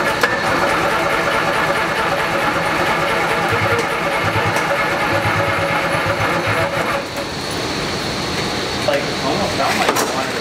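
An abandoned 1987 Yamaha Exciter 570 snowmobile cranks over on the key, a loud, steady mechanical churning that runs continuously for about ten seconds, dipping briefly near the end, with no voices over it.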